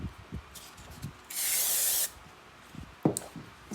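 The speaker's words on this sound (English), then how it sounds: "Then spraying some fixative" Fixative sprayed onto a chalk pastel drawing: a single steady hiss of under a second, loud and close, set between soft handling noises and quiet scraping.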